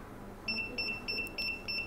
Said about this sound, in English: so the alarm is giving signal and the LED is blinking